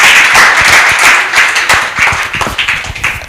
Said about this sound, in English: you can also clap for me as I sit down